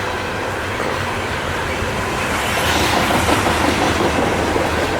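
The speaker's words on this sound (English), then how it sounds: "This is a pretty big coal train, too" A long, loaded CSX coal freight train rolls past close by in Maryland, a loud, steady rumble with rhythmic clickety-clack of wheels over rail joints that swells slightly as the cars keep coming.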